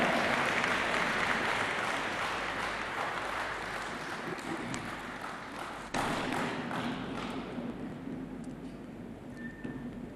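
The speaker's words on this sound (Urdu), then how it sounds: "خواتین و حضرات، استقبال کیجیے گا آپ کی بھرپور تالیوں میں وزیر اعظم پاکستان عمران خان" Crowd applause at a political address by Pakistan's prime minister in Balochistan, a dense steady wash of many hands clapping that holds throughout and swells briefly midway, heard from within a large audience.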